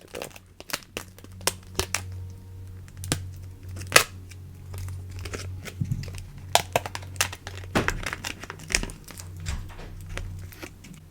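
Dried piped acrylic paint flower being peeled off a tray, a run of small crinkly crackles and sharp ticks coming close and fairly faint, with a low steady hum underneath.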